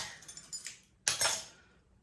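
Metal cutlery clinks and rattles as someone rummages through it for a spoon in a home kitchen, with a few light taps followed by one louder jangling scrape, close up and without speech.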